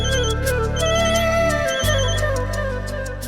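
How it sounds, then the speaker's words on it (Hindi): A mobile phone ringtone plays indoors in a steady repeating melodic pattern, clear and moderately loud, with a brief break midway before the tune carries on. "किसका फोन है?"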